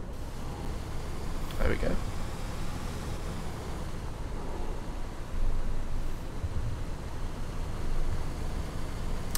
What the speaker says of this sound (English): Let's lower down the window a bit to hear the engine.